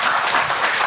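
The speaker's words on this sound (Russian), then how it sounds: "Ну тогда еще раз аплодисменты." A studio audience at a televised evening program bursts into brief, dense applause. The clapping is loud and continuous, with no voices over it.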